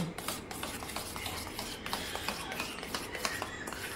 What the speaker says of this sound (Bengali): টক দইয়ের মধ্যে দিয়ে দেব বেকিং সোডা দিয়ে দিলাম, আর দিয়ে দেব বেকিং পাউডার দিয়ে দিলাম। এবার আমি ভালো করে মিশিয়ে নেব।